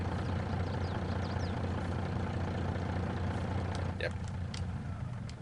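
Mack truck engine idling with a heavy, low, steady rumble, close and continuous throughout, while a voice briefly speaks near the end.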